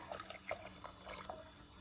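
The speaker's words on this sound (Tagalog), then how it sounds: "Lagay pa ng tubig." Water is poured into a pot of pork sinigang, a soft, faint trickle and splash running steadily and close by in a home kitchen.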